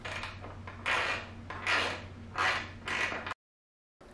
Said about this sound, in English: Tightening up the bolts.